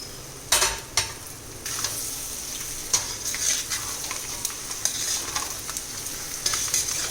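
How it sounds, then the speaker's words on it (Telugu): Eggs dipped in a spiced mixture go into a frying pan for egg pulusu and are stirred through hot oil: a steady sizzle broken by repeated scraping and stirring strokes, with a couple of sharp bursts early on; no talking. "ఎగ్స్ కూడా వేసేస్తున్నా ఇప్పుడు దాంట్లో డిప్ చేసినవి ఉన్నాయి కదా ఎగ్స్ వేసేసిన"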